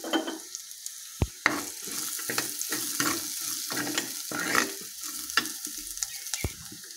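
Hot oil sizzles steadily as spices fry for tomato rasam while a spoon stirs and scrapes the pan, with a couple of sharp metallic clinks.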